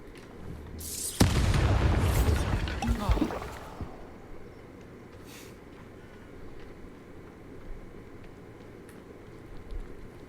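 A Bombarda explosion spell in the Hogwarts Legacy video game, one loud, deep blast with a rumbling roar that trails off over a couple of seconds, followed by quieter ambient rumble.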